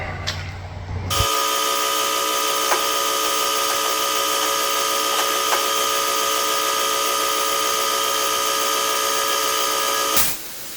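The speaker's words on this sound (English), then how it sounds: "we'll crank up the air compressor and we'll grind out the holes." A pneumatic grinder driven by an air compressor grinds out holes in an engine block during a Barra engine mount job, a loud steady high-pitched whine that holds for about nine seconds before cutting off.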